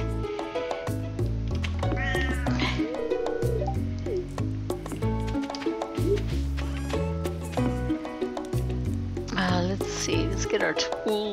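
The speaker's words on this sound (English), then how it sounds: "Oh, there's my cat, uh, mildly perturbed." Cat meowing in Stardew Valley, several short tonal mews rising over a continuous bed of game music, with a brighter cluster of cries near the end.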